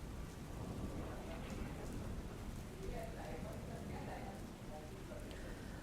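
Heavy rain over flooded ground in Aravalli's Malpur area, where an overflowing lake has sent water into a village. It is a steady, dense downpour that hisses evenly throughout, with faint background voices.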